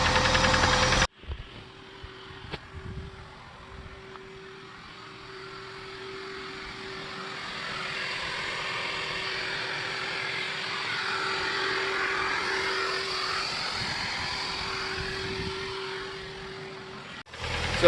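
A 1987 Chevy Chevette with a 1.6 liter four-cylinder on a big truck battery fires up after a short crank and settles into a steady, even idle that stays loud and close throughout.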